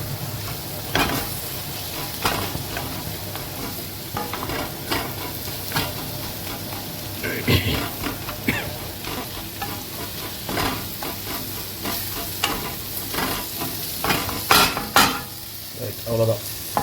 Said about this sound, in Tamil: இந்த மாதிரி வெங்காயம் நல்லா வதங்கணும்